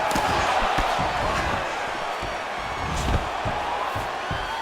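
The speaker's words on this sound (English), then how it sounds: "nice pop there from the crowd as he finally gets the takedown" At a UFC bout, an arena crowd roars and cheers when a fighter lands a takedown. The noise comes as a loud, sustained wash with scattered thuds and shouts, and commentary is heard faintly underneath.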